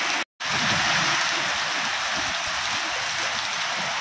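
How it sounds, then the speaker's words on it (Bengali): Heavy cyclone rain from Cyclone Remal pours steadily on a rooftop as a dense, loud, unbroken hiss, cut by a split-second gap near the start. "তো চলো তোমাদের একটু শেয়ার করে দিই যে এখানে কেমন বৃষ্টি হচ্ছে"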